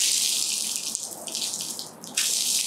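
Steady water spray hisses onto Triumph Stormguard motorcycle riding gear, a loud continuous rush that briefly dips and then returns at full strength, with no one talking.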